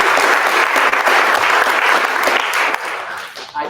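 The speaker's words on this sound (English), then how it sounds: "so that deserves a round of applause." Loud sustained applause from a crowd at a fire rescue recruit graduation ceremony, dense clapping throughout that thins and drops in the final second.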